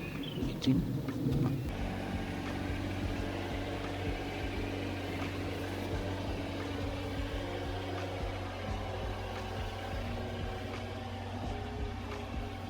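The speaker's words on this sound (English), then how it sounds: "I was finally able to get the tractor across the creek for the first time" A tractor rolls across a newly decked log bridge over a creek, its engine a steady, close droning hum that holds throughout without a break.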